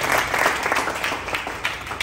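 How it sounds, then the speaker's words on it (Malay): A class of students applauds their teacher, a dense steady clatter of many hands lasting about two seconds, fairly close and moderately loud. "Okey, clap. Tepuk tangan."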